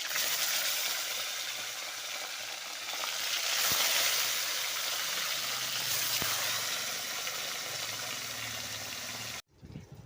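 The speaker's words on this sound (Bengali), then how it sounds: "তেলটা আমার গরম হতে থাক মাছগুলো এক একটা আমি ছেড়ে দিচ্ছি" Bata fish fry in hot oil with a loud, continuous close sizzle and bubbling that swells midway, then cuts off abruptly at the end.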